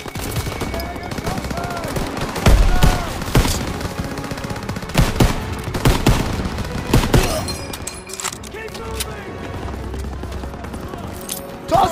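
Machine-gun fire in a WW2 game set during Operation Cobra in France, 1944: loud rattling automatic bursts and scattered single shots with heavy thumps, while soldiers' voices shout over the battle.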